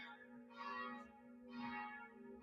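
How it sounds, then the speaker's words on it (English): Church bells ring at a distance in slow, swelling strokes about a second apart over a steady hum, faint and without voices. "I hope that recording came through okay over the church bells."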